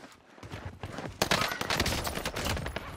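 An STG 44 assault rifle fires in Call of Duty Warzone. A quiet start gives way to fast, close, sustained automatic fire with crisp rapid cracks.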